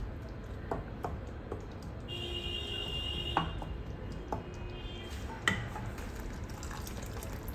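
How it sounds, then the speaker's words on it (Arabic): Water poured into a pot of yellow lentils on a kitchen stove, a steady low splashing and bubbling that runs continuously, with a couple of light metallic clinks of cookware. "ضيفت موية تقريبا نص كاسة ماء، وأسيبها 5 دقائق."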